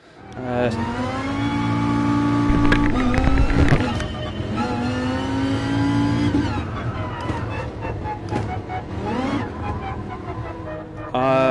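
A racing car engine in the video game GT Sport revs and roars in long, rising harmonic sweeps, loud and continuous throughout, with a brief burst of noise partway through.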